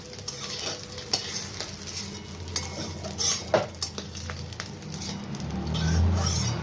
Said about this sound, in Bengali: গুগলিটি খুব বেশি ভাজবো না, হালকা করেই ভেজে নিচ্ছি